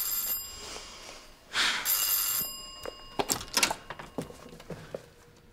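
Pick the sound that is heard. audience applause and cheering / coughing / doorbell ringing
doorbell ringing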